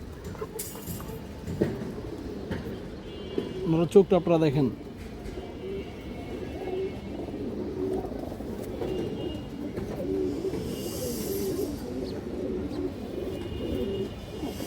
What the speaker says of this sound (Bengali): আরও একটা নর কবুতর আছে এই দেখেন অনেক সুন্দর একটা কবুতর